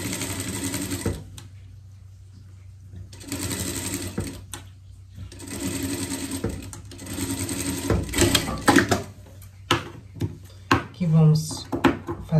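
A sewing machine stitches the seams of a summer pet outfit with fake shorts in several short runs, broken by pauses, clicks and handling of fabric, while someone talks close by.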